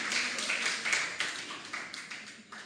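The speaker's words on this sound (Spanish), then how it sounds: "pido un fuerte aplauso para Milton Vela." An audience applauding Milton Vela at a seated session, a dense patter of many hands clapping together, loud at first and gradually thinning out over a few seconds.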